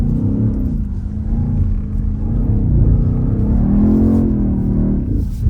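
A BMW XM's engine revs hard while drifting on a road, a loud close-up roar that swells and eases in waves, with the pitch climbing near the end and no talk over it.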